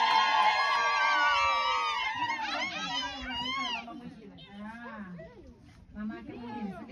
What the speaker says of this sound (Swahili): Jamani, makofi na vigelegele kwa mama Mungu.